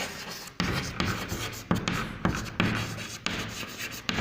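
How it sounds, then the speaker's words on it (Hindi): Chalk or marker scrapes across a classroom board in short strokes, a dry rhythmic scratching broken by brief pauses between words, close and clear with no voices. "तो इसके सामने हम लोग एक लाइन लिखेंगे"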